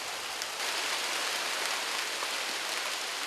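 Sudden rain shower pouring down on a tea plantation in Sri Lanka, a dense even hiss of drops on surfaces, loud and continuous with no voices.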